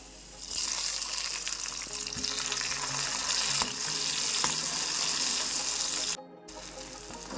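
Chopped tomato drops into a pan of golden-fried onions for masala Maggi, bringing a loud, steady sizzle with a few sharp clinks of a utensil, then a brief cut and a softer sizzle.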